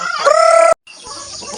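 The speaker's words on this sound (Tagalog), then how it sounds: "Yan ang mga manok namin." Farm chickens cluck and a rooster crows loudly up close, a short burst of calling, a brief silence, then softer clucking and scratching.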